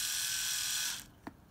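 A repaired Philips electric shaver whirs steadily at close range with a bright buzzing hum for about a second, then cuts out, followed by a short faint click in the quiet.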